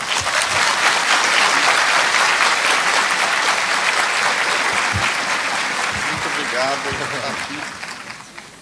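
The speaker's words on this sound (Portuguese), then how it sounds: "Mais palmas." An audience gives loud, sustained applause after a testimonial speech, a thick wash of clapping that holds steady and then gradually thins out, with a voice briefly heard near the end.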